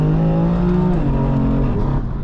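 Deep intake roar from a 580 bhp BMW M3 on a night drive, heard from inside the cabin, a steady loud drone that rises and dips slightly as the engine pulls, with no talk over it.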